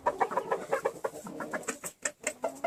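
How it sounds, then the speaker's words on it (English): A show rooster and two hens cluck and call close by in a quick, uneven run of short bursts, with no talking. "Got a pretty rooster and two pretty hens."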